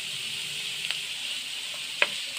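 Onion and green chilli sautéing in a pan with curry leaves, giving a steady soft sizzle with a couple of faint clicks from stirring.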